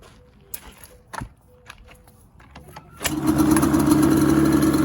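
A restored Yamaha Banshee ATV engine catches after a few seconds of clicks and handling noise, then settles into a loud, steady running buzz close by.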